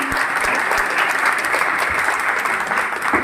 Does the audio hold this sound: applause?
yes